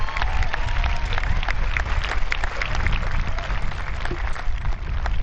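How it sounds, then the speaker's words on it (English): Sustained applause from a large audience at a high school commencement, dense and steady clapping that fills the whole stretch without letting up. "So how about a round of applause to show your appreciation for everything they've done for you."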